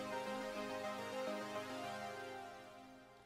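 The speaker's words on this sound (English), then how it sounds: "I really like saw waves an octave up and square waves an octave down." Layered detuned saw and square wave synths, saws an octave up and squares an octave down, panned left and right, play a full sustained chord that fades out gently, quiet and alone.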